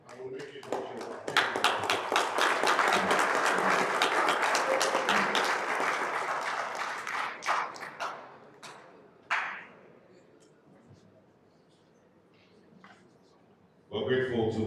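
Loud audience applause at a WESPAC 2025 sporting event in Accra, sustained clapping for several seconds that thins into scattered claps and quiet, then bursts up again near the end.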